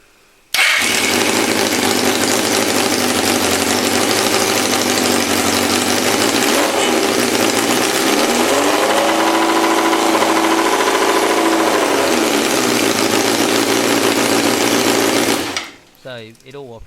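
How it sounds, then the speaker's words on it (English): Race mower engine running steadily at close range, a loud continuous buzzing drone with a brief rise in pitch midway, then cutting off abruptly near the end. "Just start this up now, let you listen to the engine for a little bit."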